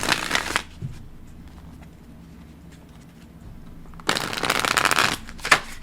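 Tarot cards are shuffled in two loud riffling bursts, one at the start and a longer one near the end, separated by a quiet pause with no speech.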